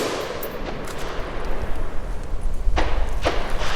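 A PSA JAKL rifle fires two sharp, loud shots into the dirt outdoors, cracking near and close together over a steady background hiss.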